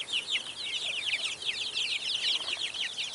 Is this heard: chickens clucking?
yes